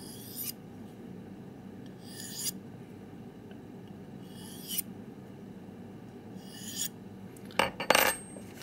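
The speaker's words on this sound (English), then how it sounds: "let's run this backwards on the hone very lightly" A knife edge drawn backwards lightly along a hone gives a few soft, spaced rasping strokes at low volume, with a quick cluster of brighter scrapes near the end.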